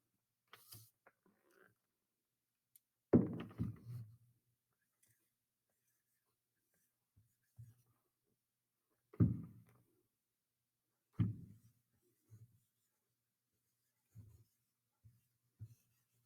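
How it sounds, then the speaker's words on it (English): Chalk or marker scratching out words on a board in short, separate bursts with quiet gaps between them, close and soft in an otherwise silent room. "Now let's write these 3 words on my board."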